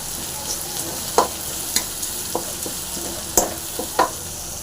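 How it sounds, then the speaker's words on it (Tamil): Chopped onions fry in hot oil with mustard seeds for a green bajji chilli dish, a steady close sizzle broken by several sharp spoon scrapes and clicks against the pan, no voices. "வெங்காயம் போட்டுடலாம் வெங்காயம் நல்லா ஃப்ரை பண்ணிக்கலாம்"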